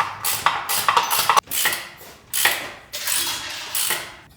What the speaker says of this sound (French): Tu passes le gros cliquet, Benoît?